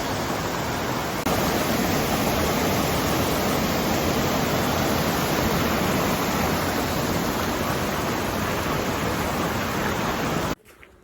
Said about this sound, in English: Watch the waterfall down there